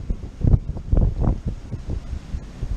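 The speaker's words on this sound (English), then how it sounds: "it is windy, windy, windy up here." Heavy wind buffets the microphone in rumbling, uneven gusts, loud and close, with no voices, outdoors at a high, exposed spot.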